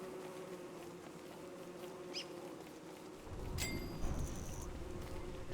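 Killer bees buzz in the video game Don't Starve, insect drones rising over a steady low hum, with a few brief tonal chirps and a sharper high whine entering midway.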